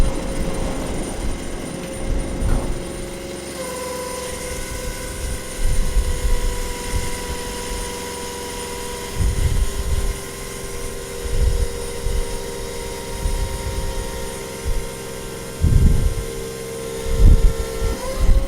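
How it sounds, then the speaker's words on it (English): A 2016 KM T2 asphalt recycler running with its drum rotating: a steady mechanical drone with tonal hum, plus intermittent low thumps and rumbles from the turning drum, loud and nearby. "And you'll rotate the drum into the unload position as you're raising the drum."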